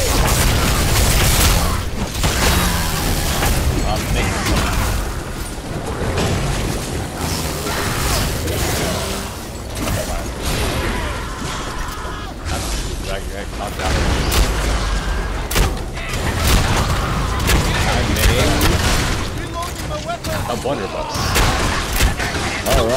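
Gunfire from Evil Dead: The Game rings out as repeated booming shots and whooshes over dense, continuous game music and effects, with a voice talking through parts of it.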